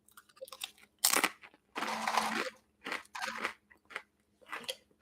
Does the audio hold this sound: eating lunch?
yes